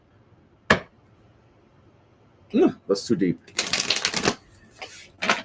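Oracle cards shuffled by hand during a tarot reading: a sharp snap, then short riffling bursts and a longer shuffle of about a second, with a person speaking between them.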